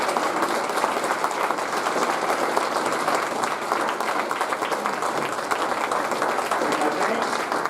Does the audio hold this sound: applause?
yes